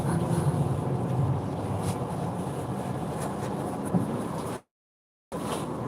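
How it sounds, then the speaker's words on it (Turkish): Strong, continuous storm wind buffets the microphone on a road, a rough roaring rush that briefly cuts to silence near the end. "Fırtına doğrusu."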